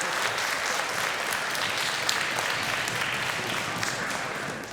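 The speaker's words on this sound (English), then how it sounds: "How about one more round of applause for the orchestra?" Sustained audience applause for a school orchestra at a winter concert, a dense steady clatter of many hands filling the room throughout at a loud, even level.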